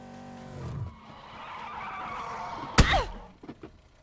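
Fast car in the game PUBG, on the Miramar map, skids with a sharp tire squeal and thunk after a steady engine drone, then settles; no talk.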